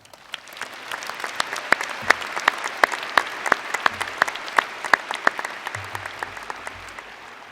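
Steady applause from a moderate crowd, with individual claps standing out sharply, continuing evenly for several seconds.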